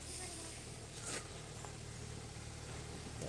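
A Honda Insight climbs an uphill road, its engine a faint, steady low hum with a soft whoosh of passing air.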